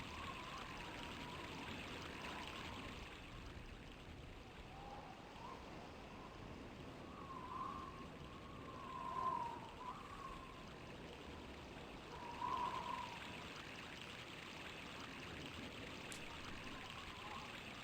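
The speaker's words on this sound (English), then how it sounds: "You can hear the water, man." Water flows through a town in the video game Grandia as a soft, continuous stream, faint and steady with a couple of slightly louder swells and no voices over it.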